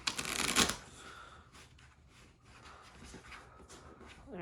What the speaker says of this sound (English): we'll give the deck of wrestlers a good shuffle here